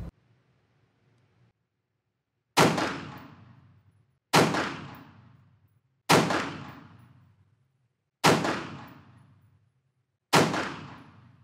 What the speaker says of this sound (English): Fired another 5-shot group to confirm.